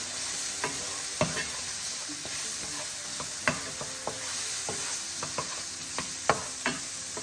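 Chicken Marsala ingredients stirred in a pan over low heat: a faint, steady sizzle broken by irregular spoon clicks and scrapes against the pan, close and quiet.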